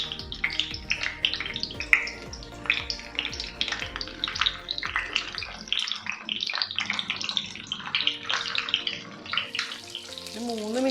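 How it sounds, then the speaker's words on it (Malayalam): Pearl spot fish crackles and sizzles in hot oil in a pan, with a close, busy spatter and bursts of popping that carry on without a break. "ഓയിൽ ചൂടായിട്ടുണ്ട്. ഇതിലേക്ക് കരിമീൻ വെച്ച് കൊടുക്കാം."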